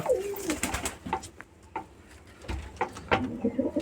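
Domestic pigeons coo in low throaty bursts close by, mixed with soft wing flutters and scuffling as birds move and take off, irregular and fairly quiet.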